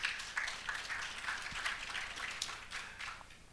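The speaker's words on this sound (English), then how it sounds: "Can you please give her a round of applause?" An audience applauds, a steady patter of many hands clapping, moderate and slightly distant, without voices.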